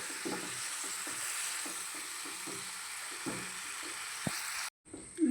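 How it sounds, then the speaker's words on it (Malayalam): Roasted ground coconut paste is stirred into a simmering pot of mullatha (soursop) curry, a steady sizzle with repeated soft scraping stirs of a spoon, close by, cutting off briefly near the end. "എന്നിട്ട് ഒന്ന് ഇളക്കി കൊടുക്കാം."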